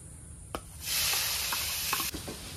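Onion added to hot oil bursts into a loud, bright sizzle that holds steady, with a few clicks and knocks of a utensil against the pan before and after, close up and without talk.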